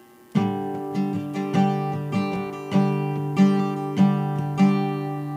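Guitar chords strummed repeatedly in a steady rhythm with fingers not pressed down fully, each strum ringing with a dull, slightly muted dead-string tone; no voices.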